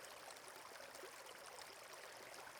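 A forest stream flowing, a quiet, continuous broadband rush and trickle of water with a soft, even texture and no voices.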